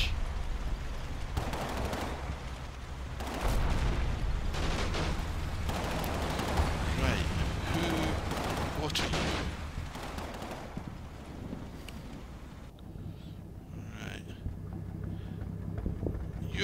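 Bursts of gunfire rattle through a WWII tank battle in a video game, near and dense at first, then thinning to scattered distant shots over steady battlefield rumble.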